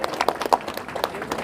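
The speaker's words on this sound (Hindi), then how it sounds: "दोनों के लिए एक बार जोरदार तालियों से स्वागत किया जाए।" A small audience claps at a quiz program in a coaching-class campus, welcoming two contestants with a brief burst of uneven, close hand claps.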